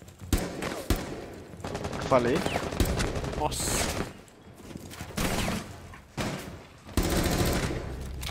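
Repeated bursts of gunfire in a shooting video game, loud clustered volleys separated by short gaps, with someone talking between the shots.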